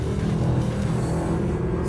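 A Mercedes SLS AMG Black Series engine with 630 horsepower roars steadily under load through a long corner, a dense, loud, continuous rumble with no talk over it.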